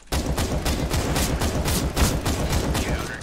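Rapid automatic gunfire in Counter-Strike: Global Offensive: a steady, evenly spaced burst of loud shots runs without pause for about three seconds, close and alone.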